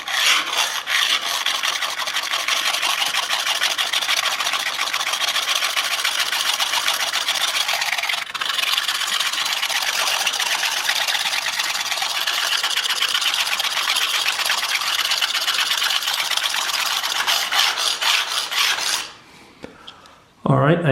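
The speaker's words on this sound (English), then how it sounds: "Now, when you saw me sharpening, you saw me moving the plate, sharpening even in the short direction, which you certainly can do." A Crimson Croc knife is sharpened on a sharpening plate, giving a loud, continuous rasping scrape with rapid back-and-forth strokes for nearly twenty seconds, then a short pause and a final scrape.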